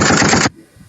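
A voice mimics rapid gunfire, a dense burst of chattering shots for about half a second, loud and close, then breaking off into near silence.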